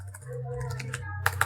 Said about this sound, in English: Why am I having trouble typing?